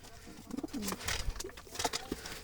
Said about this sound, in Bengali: দেখুন দর্শক, কালো জালালি বুনো কবুতর